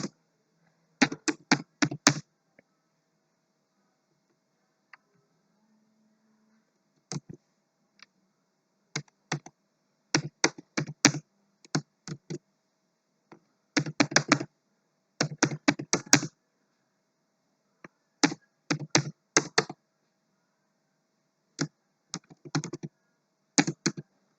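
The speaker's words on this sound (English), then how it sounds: "So let me just type the code." Bursts of typing on a computer keyboard while entering code, fast clusters of clicks separated by short pauses, close and clear with no talking.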